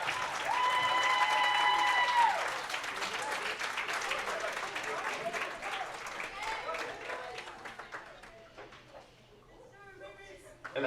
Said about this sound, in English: Ladies and gentlemen, put your hands together for our 2022 USA Bowling National Champions